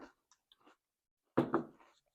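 Special K Limited Edition Pumpkin Spice cereal crunches in two close, sharp bites after quiet small clicks, with no speech.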